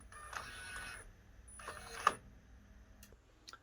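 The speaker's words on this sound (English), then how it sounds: "press function one time, and that is going to reseat the print head into the capping station" An Omni Freejet 330TX printer's print head redocks into its capping station, giving quiet mechanical whirring in two bursts with a small click, then faint ticks, over low background hum.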